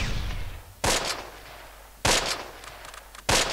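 Three sharp, loud gunshots in the Close Combat WWII war game, evenly spaced about a second apart, each cutting through a low hum of background noise with no voices.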